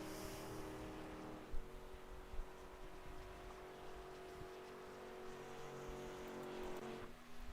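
A race car at Daytona makes a sustained engine whine with shifting tones, a moderately distant drone that fluctuates as it passes and accelerates, with a couple of brief thumps.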